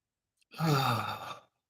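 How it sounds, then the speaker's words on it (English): A single deep breath in a guided meditation, one close, soft exhale lasting about a second, heard alone in silence. "let's just take a breath together. And another breath"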